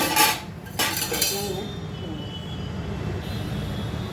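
Metal scraping and clinking of a spoon working cooked wheat paste off the edges of a pan, a few sharp strokes early on, then a steady low background hum.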